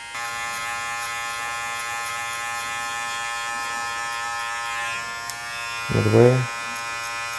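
Electric hair clippers fitted with a 0.5 guard buzz steadily while cutting a mid fade, a close, even drone with a brief scraping burst near the end as a voice says one word.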